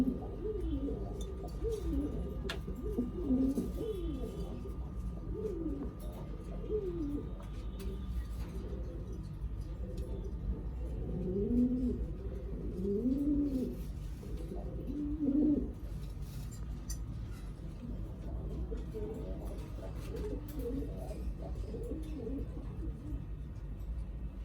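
Pigeons in a loft coo in repeated low, rolling phrases that swell and fade, close by over a faint background hum, with brief calls overlapping near the middle.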